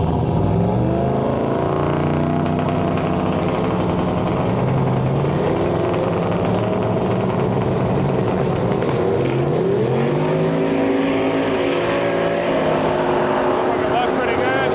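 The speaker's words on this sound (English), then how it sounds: "Dan Bold running Pro Street with this beautiful step-side Silverado" A Pro Street step-side Chevrolet Silverado makes a drag racing run at Medicine Hat, its engine droning loudly and steadily with rising and shifting pitch, under continuous announcer commentary.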